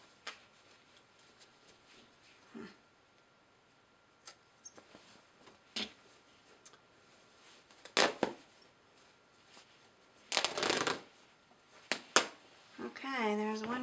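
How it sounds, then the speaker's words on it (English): A wool coat being torn apart by hand: scattered soft rustles and clicks, then a louder ripping burst of fabric near the end, followed by a voice talking. "So let's tear the shoulder off and"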